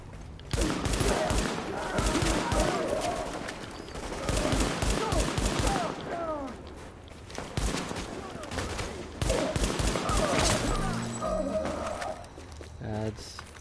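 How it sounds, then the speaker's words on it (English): Bursts of gunfire from a Tom Clancy shooter game, with repeated rapid shots in clusters mixed with game effects and a talking voice over much of it. "Or gunfire ahead."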